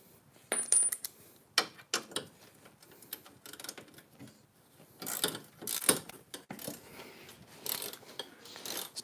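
Metal clicks and ratcheting taps from a spanner working bolts loose on a Mercedes CLK500 V8 engine, arriving in irregular close bursts with quiet gaps between them and no talking.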